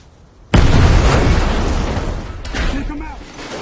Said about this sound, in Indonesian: Tepat setelah itu, bomnya meledak yang membuat listriknya padam.